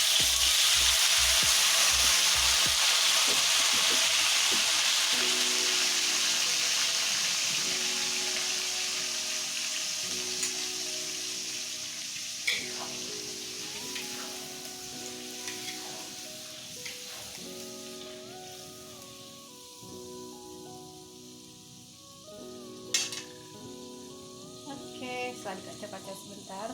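Steady loud sizzling of blended spice paste for beef rendang sautéing in a pan, with occasional stirring scrapes and clinks, slowly quieting over time; faint voices in the background.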